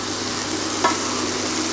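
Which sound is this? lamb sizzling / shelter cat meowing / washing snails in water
lamb sizzling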